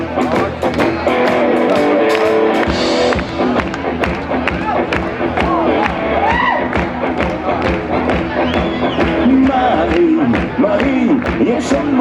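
A festival crowd at a concert claps along in steady rhythmic beats to loud live band music, with cheering voices mixed in throughout.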